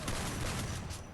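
A brief burst of rapid gunfire in Free Fire, the shots crowding into one dense, loud crackling volley that fades after about a second.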